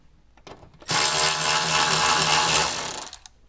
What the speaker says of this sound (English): Switch over and let's get the 8mm bolt off of here